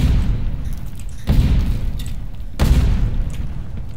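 Grenades explode one after another in Ghost in the Shell: Stand Alone Complex First Assault Online. Three heavy, close booms land at roughly even intervals over a constant rumbling background of battle noise.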